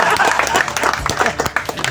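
A crowd of men claps at a first founding anniversary gathering of Grand Supremo Mantele, with dense, steady applause filling the short stretch and a few sharper individual claps standing out near the end.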